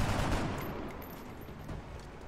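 Gunfire from the turn-based strategy game XCOM: Long War, a dense burst of rapid shots that blurs into a sustained rattling roar, loud at first and easing slightly while staying steady to the end.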